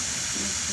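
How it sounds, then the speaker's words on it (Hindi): Onions dropped into hot ghee, a loud, dense hissing sizzle that fills the whole brief moment. "इधर घी मेरा हो गया गरम, तो ढालते हम प्याज को"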